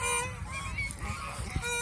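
A flock of egg-laying rajhash geese on a farm honks continuously, many loud, nasal calls overlapping close by with no pauses.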